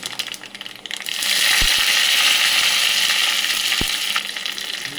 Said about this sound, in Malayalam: ഇനി ഞാനിവിടെ കടുക് പൊട്ടിയിട്ടുണ്ട്